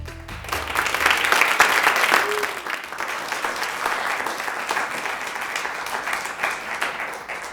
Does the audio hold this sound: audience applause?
yes